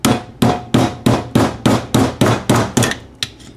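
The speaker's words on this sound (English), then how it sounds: "grab a hammer and just tap it out" A hammer strikes a screwdriver held against the cap of a Thunderbolt rotator motor in about nine sharp, evenly spaced metallic taps. The blows are close and loud, and the last ones come slightly quicker and lighter.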